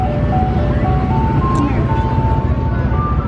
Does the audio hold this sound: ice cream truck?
yes